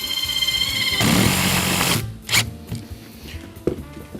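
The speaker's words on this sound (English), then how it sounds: "I'm sinking the screws in to the meatiest part of this where I have the most thickness" A power drill whirs as screws are driven into board and batten siding, one steady close buzzing run for about two seconds that stops, followed by a couple of short knocks and clicks.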